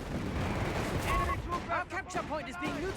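Battle gunfire from Company of Heroes 3, a German Afrika Korps versus British forces match, with a dense rumble of shots and distant blasts under a commentator's continuous voice.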